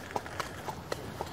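Horse hooves clip-clop at a walk on a hard surface in the early morning, with about five distinct, evenly spaced hoof strikes that are moderately close and clear.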